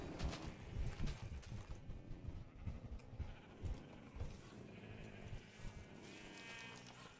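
Sheep in the video game Minecraft bleat repeatedly in a dense, overlapping chorus, fairly close and continuous, with some lower moo-like calls mixed in.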